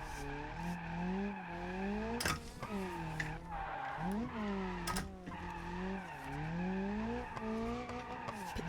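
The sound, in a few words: drift car skidding in BeamNG.drive video game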